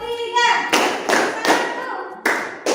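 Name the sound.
children clapping hands in a counting clap game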